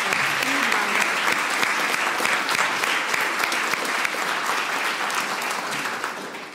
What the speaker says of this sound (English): can we give all these appointments and promotions a huge round of applause?